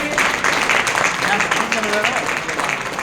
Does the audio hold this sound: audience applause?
yes